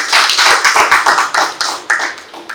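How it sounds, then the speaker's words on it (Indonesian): Audience applause at a gathering: a short burst of close, evenly paced hand claps, fairly loud, with no voices over them. "Berikan tepuk tangan untuk kami."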